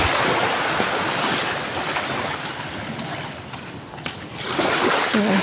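Sea waves at high tide near a moored fishing boat at night, a steady broad wash of surf and wind buffeting the microphone, with a swell toward the end and no clear talk.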